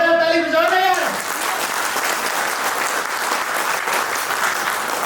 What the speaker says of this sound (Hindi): तो एक जोरदार ताली बजाओ ना यार